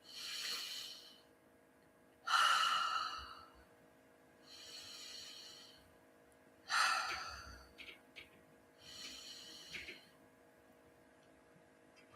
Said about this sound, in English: I'm going to invite in, maybe there's 3 big breaths